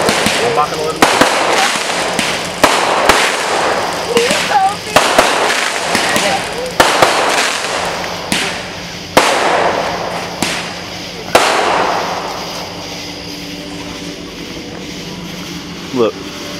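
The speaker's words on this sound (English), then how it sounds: "Don't worry about the fireworks." Firecrackers and fireworks pop and bang in a rapid, irregular series of sharp cracks, some close and loud, fading into a quieter hiss near the end.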